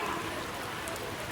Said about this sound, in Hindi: अभी भी बारिश बहुत तगड़ी हो रही है